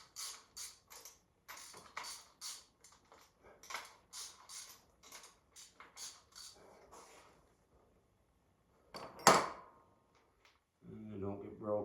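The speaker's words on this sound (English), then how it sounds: "We might as well just pop all these plugs out." Spark plugs are pried from an old front-engine dragster during teardown: a series of faint, quick ratcheting clicks and creaks, a brief sharp metallic clatter, then a low buzzing rattle at the end, with no talk.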